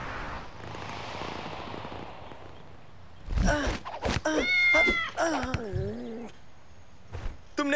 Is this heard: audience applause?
no